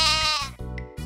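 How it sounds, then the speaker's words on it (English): A sheep bleats in two or three wavering, nasal baa calls close by, loud and alone with no talk over it. "A sheep makes a baa sound."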